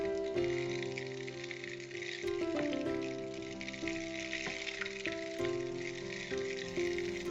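Butter sizzles steadily in a pan while a broken-edged bamboo spoon stirs it, a continuous close frying hiss with occasional scraping knocks from the spoon.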